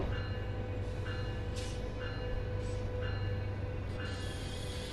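Metrolink passenger train on the San Bernardino line in Train Sim World 5, a steady rumbling engine drone with rhythmic clicks and clunks of rolling wheels over track joints, running continuously without speech.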